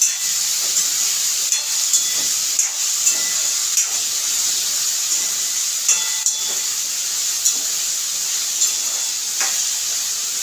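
Potato bhaji cooking in hot oil in a home kitchen, a steady bright sizzle and hiss running throughout with faint clinks from stirring at intervals, no talking.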